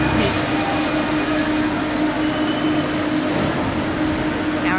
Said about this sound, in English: Now we're getting back on the metro